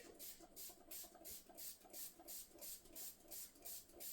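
Water spray bottle spritzing during a military bald fade haircut, a quick series of about a dozen rhythmic hissing bursts, close and fairly soft, with no talking.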